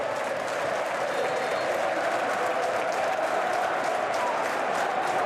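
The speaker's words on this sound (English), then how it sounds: "The cheer you will hear in a minute will not only be one of celebration, but one of huge, huge relief for Derby County." Stadium football crowd cheering and applauding for Derby County in a Championship match against Blackburn Rovers, a dense, steady roar of many voices that holds loud and unbroken throughout.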